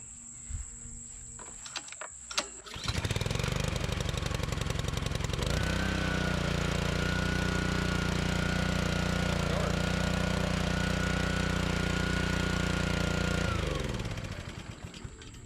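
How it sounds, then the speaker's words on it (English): A few clicks precede the small Honda engine of a Troy-Bilt pressure washer, which catches and roars to life, running loud and steady before cutting out and winding down. "the next engine belongs to this Troy built pressure washer. This thing has a Honda engine"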